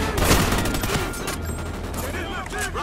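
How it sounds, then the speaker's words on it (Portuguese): Rapid bursts of Call of Duty: Ghosts gunfire crackle throughout, dense and loud at first, then tapering, with a voice talking faintly underneath. "poxa, não tá vendo esse tiro,"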